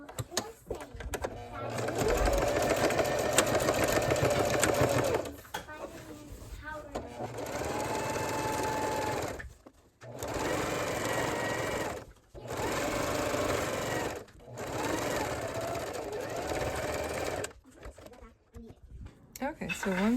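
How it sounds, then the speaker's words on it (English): Sewing machine running a straight top stitch along a zipper pouch seam, in several steady bursts of whirring broken by short pauses, with a person talking between and over the runs. "So I'm going to top stitch along here with a straight stitch"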